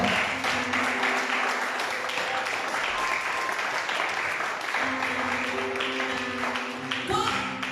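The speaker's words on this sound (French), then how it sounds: "Acclame le Seigneur très très fort" A church congregation applauds and acclaims the Lord with steady, sustained clapping, mixed with voices and a held musical tone.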